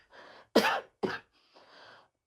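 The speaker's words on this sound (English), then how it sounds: "Don't worry about my cough." A dry cough, two sharp bursts close together between soft breaths, close and fairly quiet with no talking.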